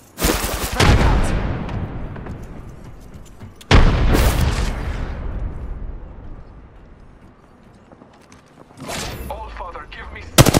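Frag grenades explode amid gunfire in the video game Apex Legends: three sharp, loud blasts with long rumbling tails, spaced several seconds apart, with voice lines in the game.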